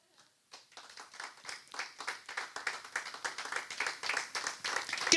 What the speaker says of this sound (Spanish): Alguien le da un aplauso a Dios por eso.